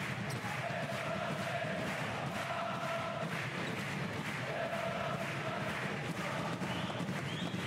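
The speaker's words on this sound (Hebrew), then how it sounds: "מקבל את מחיאות כפיים עידוד מהאוהדים" Basketball fans in an arena applauding a departing player during a Hapoel Tel Aviv versus Maccabi Ashdod playoff game, a steady wash of crowd clapping and cheering running throughout at moderate distance.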